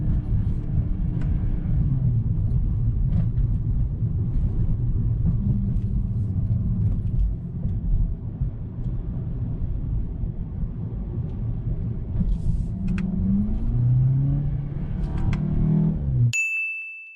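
Engine of a front-wheel-drive VW Golf GTI TCR heard from inside while driving, a loud steady low rumble with rising and falling revs, ending with a short chime.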